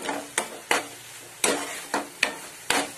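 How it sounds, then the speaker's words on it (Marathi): Onion-coconut paste frying in a pan for Marathi-style chana masala, with a series of sharp scraping strokes of a spatula recurring every half second or so over a faint sizzle. "आता चांगलं त्याला 2 मिनिटं फ्राय करून घेते."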